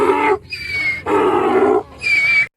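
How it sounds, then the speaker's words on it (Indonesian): Donkey braying in loud, close alternating calls, three harsh honking bursts separated by short gasping pauses, heard alone without talk. "keledai,"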